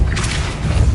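A Depulso spell cast in the Hogwarts Legacy video game, a short booming thump with a whooshy burst, close and fairly loud, lasting about a second on its own.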